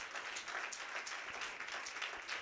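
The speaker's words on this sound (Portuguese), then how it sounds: "Pode aplaudir o Senhor" Applause from a church congregation during a Portuguese-language sermon, a steady wash of many hands clapping, fairly faint and continuous with no clear break.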